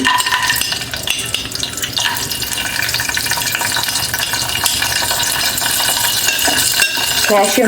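Cashews frying in ghee in a flat-bottomed non-stick pan, a steady close sizzle and crackle with stirring and light utensil scrapes throughout.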